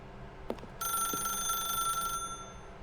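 A telephone in The Stanley Parable rings with a bright, sustained electronic bell tone for over a second after a couple of soft clicks, clear and close, then cuts off.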